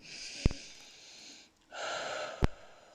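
Slow, audible breaths in and out, close to the listener, with two sharp clicks breaking the quiet between them.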